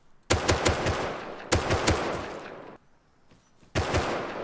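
Gunfire in the survival video game Rust comes in three sharp bursts of rapid automatic shots. The bursts are loud and close, separated by short quiet gaps.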